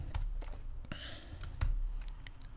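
Code being typed on a computer keyboard in the Arduino Pro IDE, a steady run of close, crisp key clicks with a low background hum.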